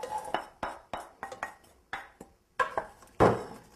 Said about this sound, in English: So we're going to just put them in the saute pan.